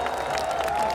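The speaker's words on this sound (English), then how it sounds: "Give him a big round of applause" A crowd at the Royal Melbourne Show woodchop arena claps for a 26-year-old axeman from Tasmania, a brief, dense burst of steady applause at moderate distance.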